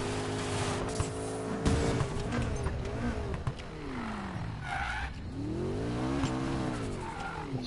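A McLaren 570S coupe driven in the video game Need for Speed Payback, its engine revving up and down in rising and falling sweeps with tyre squeals and skids, loud and continuous, no talk.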